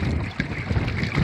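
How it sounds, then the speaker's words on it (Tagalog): Strong wind roars and buffets the microphone over a choppy, splashing sea during a fishing trip, with gusts surging and fading in uneven waves. "sobrang lakas na ng hangin"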